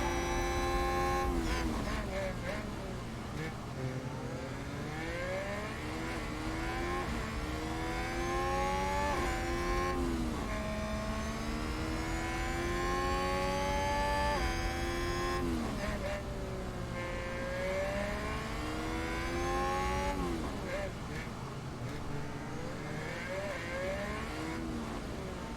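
Formula 1 race cars in the F1 Manager 2022 management game give a sustained engine whine with rising and falling pitch as they shift through gears, continuous over about 25 seconds, with talk over the top.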